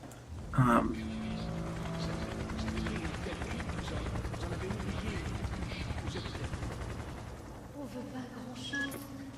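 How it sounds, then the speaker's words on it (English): Helicopter rotor thumping from security helicopters in the game Remember Me drones steadily through the soundscape, with a sharp impact early on and scattered bursts of gunfire-like noise. "And security helicopters"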